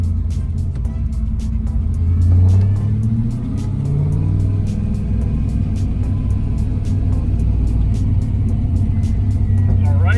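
A car with a slipping clutch drives toward a highway on-ramp, its steady low engine rumble and road noise continuous and close throughout, rising slightly as it accelerates, with a faint ticking above the drone.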